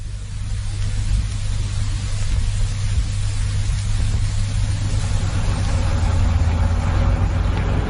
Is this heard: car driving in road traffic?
yes